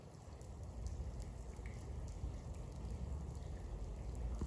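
Rain falls steadily outdoors on a cold day, a faint, even hiss with a low rumble beneath it and no voices.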